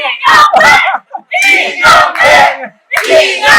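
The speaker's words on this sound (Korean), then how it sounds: "그런 환호는 저 같은 정치인한테 하셔야지" A live talk-show audience lets out loud, high cheers and shouts in several short bursts with brief gaps between them.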